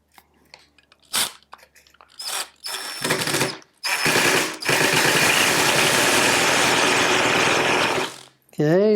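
A power drill drives 3/4-inch screws into wood while a suet bird feeder is assembled, giving a brief whir and then a long, loud, steady grinding run close to the microphone that stops abruptly.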